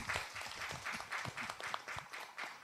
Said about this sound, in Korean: 박수 쳐주시죠.